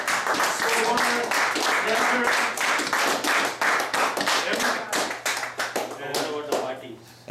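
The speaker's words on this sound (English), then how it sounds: "Guys, he needs big applause, guys. Big applause." Applause and clapping for a team manager at a cricket club's 2012 season-end party, dense rapid claps filling the room for several seconds, loud and close, with voices mixed in, thinning out toward the end.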